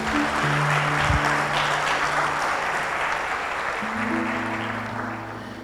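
A church congregation applauds together, a broad steady wash of clapping from many hands that tapers slightly toward the end, with faint tones underneath.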